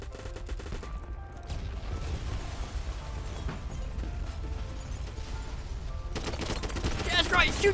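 Rapid bursts of video-game gunfire crackle in the distance at first, then swell into closer, denser volleys near the end, mixed with mechanical clatter and faint voices.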